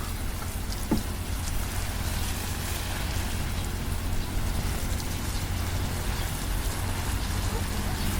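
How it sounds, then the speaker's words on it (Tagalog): Steady rain patters on a surface, a continuous hiss of drops filling the background without pause. "parang umuulan na rin siya"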